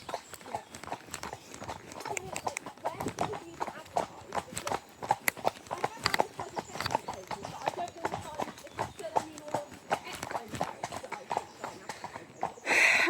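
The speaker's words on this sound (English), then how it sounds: "Should we trot onto the corner?" A horse trots on a hack, its hooves making a quick, steady clip-clop throughout. Riders chat over the rhythmic footfalls, and there is a brief snort or whinny near the end.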